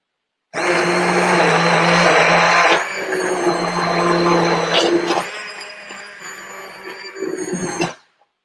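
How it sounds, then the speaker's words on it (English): An immersion blender whirs loudly as it purées a pot of seasonal borscht, starting abruptly, shifting in pitch as it churns, then easing down and cutting off after about seven seconds. "I always love to immersion blend things"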